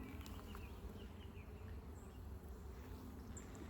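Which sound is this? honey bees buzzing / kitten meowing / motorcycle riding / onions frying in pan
honey bees buzzing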